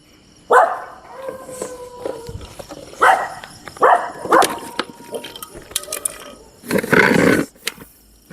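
A venomous snake near a house gives several loud, harsh breathy bursts spread across the stretch, with dogs barking and growling close by.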